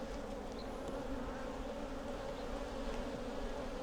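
Dense, steady buzzing of many honeybees at an open hive during frame work, close and continuous with no pauses.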